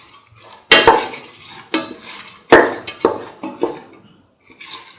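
A spoon scrapes and clanks against a pot while curried lentil rice with egg is stirred, sharp metallic knocks coming in irregular bursts with short quiet gaps between them.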